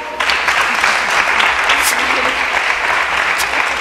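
Audience applause fills a Christmas concert by an inclusive orchestra in San Juan de Aznalfarache, a dense, steady clapping that runs loud and unbroken from start to finish.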